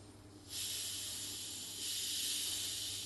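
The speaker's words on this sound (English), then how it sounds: "release the gas." Gas hisses out of a bottle of fermenting homemade ginger beer as the cap is eased open, first as one steady hiss and then as a slightly louder second surge, quiet and close with no talk.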